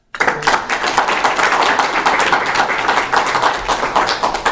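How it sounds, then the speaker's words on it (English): An audience at a .NET developer talk bursts into sudden applause, many hands clapping in a dense, steady patter that continues for several seconds. "give him a round of applause"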